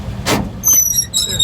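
A 1947 GMC truck engine revs and drops as second gear is sought, a short burst of engine roar with a metallic gear clunk and high squeaks, heard close from the cab.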